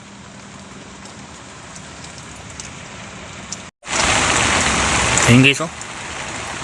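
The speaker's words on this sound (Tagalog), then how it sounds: "Lakas ang ulan." Heavy rain pours down during an outdoor tilapia fishing trip, a loud steady hiss that briefly cuts out before swelling again, with a voice speaking over it.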